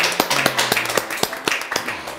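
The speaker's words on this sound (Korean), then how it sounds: "그 아버지한테 박수 한번." Audience at a Korean talk show on parenting clapping, a handful of loud, close, distinct claps in a loose rhythm rather than a full wash of applause.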